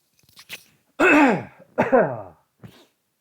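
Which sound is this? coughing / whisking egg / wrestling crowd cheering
coughing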